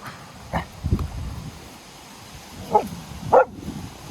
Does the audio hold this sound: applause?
no